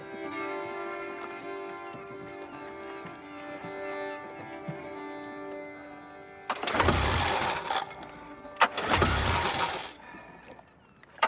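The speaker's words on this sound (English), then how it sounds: "Damn engine." A car engine is cranked twice in two loud grinding bursts, each lasting about a second and dying without catching, following a stretch of tonal background music.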